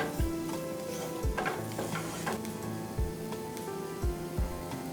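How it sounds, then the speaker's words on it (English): Plain flour cooking with onions in a pan, steady sizzling with periodic stirring scrapes and low spoon knocks against the pan, close, with a hum in the background and no speech. "we'll cook the flour for 30 to 40 seconds along with the onions"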